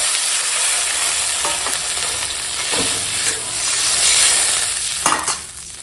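Water poured into a sizzling, well-fried spiced curry of fish roe in a pan, producing a loud, steady hissing sizzle that swells midway, with a few utensil knocks and a final sharp burst.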